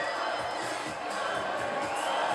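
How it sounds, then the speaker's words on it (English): Bodybuilding competition crowd at the Olympia roaring and cheering loudly and continuously, a dense wall of voices with scattered whoops throughout. "The crowd seems to be getting into it. Listen to it."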